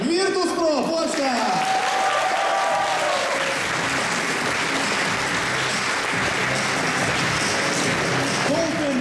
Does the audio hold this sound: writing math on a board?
no